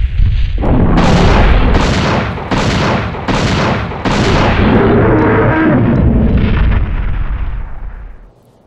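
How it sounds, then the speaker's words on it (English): Five heavy, evenly spaced anti-tank rifle shots boom out loud and close in the video game Dino Crisis 2, each a sharp blast with a rumbling tail, followed by lingering low rumble that fades out. "There's something very satisfying about using an anti-tank rifle on that thing"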